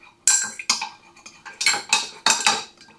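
A spoon mixes Vaseline and cloves into a hair remedy in a bowl, with a series of sharp, close scraping clinks coming in an uneven rhythm and no talking.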